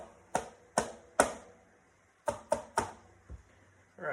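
A knife minces onion on a cutting board in about seven sharp, separate chops, grouped in short bursts with pauses between, close and fairly quiet with no talking.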